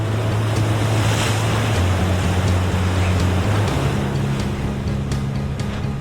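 Ocean waves break at a surf spot along a coastline, a loud continuous roar of surf and wash with wind rumble and a low engine drone underneath, no voices.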